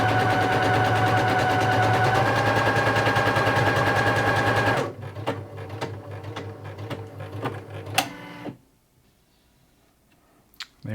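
A Brother PE-190D embroidery machine stitches in a fast, dense mechanical chatter, playing sped up, then stops abruptly and gives way to sparse clicks and quiet handling sounds before near silence.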